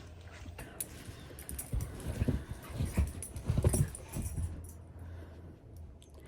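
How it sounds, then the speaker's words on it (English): Dogs bark and scuffle nearby in a burst of loud, uneven yelps that swell mid-clip, then fade, with faint voices in the background. "These dogs are driving me insane today"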